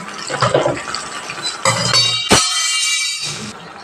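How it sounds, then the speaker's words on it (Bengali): A kitchen spatula slips from a cook's hand and lands with one sharp, loud clatter partway through, over the steady hiss and sizzle of fried onions and ginger-garlic paste cooking in a pan. "সরি হাত থেকে খন্তিটা পড়ে গেল"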